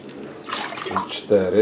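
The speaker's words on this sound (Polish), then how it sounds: "Cztery szklanki wody. Robimy zalewę." Water poured from a glass into a pot for mushroom marinade brine gives a short splashing trickle close by, with a voice speaking over and after it.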